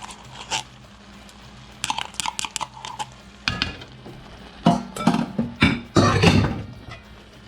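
Tomato paste being mixed into ropa vieja in a pot over a low simmer, with a spoon scraping and knocking against the pot in irregular close bursts.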